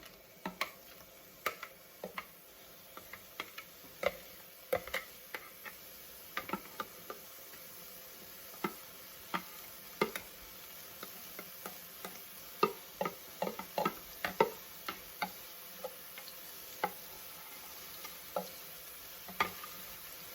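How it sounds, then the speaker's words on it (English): Sofrito for a lentil-based vegan picadillo cooks quietly in a pan, a soft steady sizzle dotted with regular sharp ticks and pops spread across the whole stretch. "I'm going to put in the sofrito. And I'm just gonna cook it."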